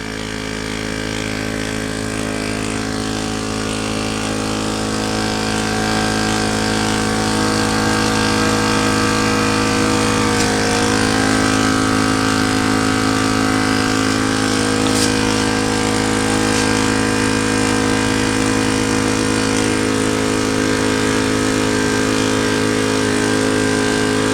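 An EPAuto 12V portable air compressor inflating a car tire hums at a steady, loud pitch close by, its motor drone holding unbroken for the whole stretch with no voices.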